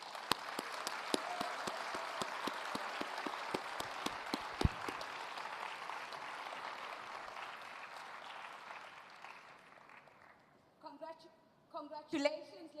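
Applause from an awards-ceremony audience for a young rising star winner, with sharp individual claps standing out over a steady patter that gradually fades, followed by a speaker's voice at the end.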